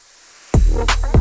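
A white noise sound effect for drum and bass, tonally coloured and shaped, bursts in abruptly after half a second of quiet and sustains loud and full, with bright swells pulsing through it.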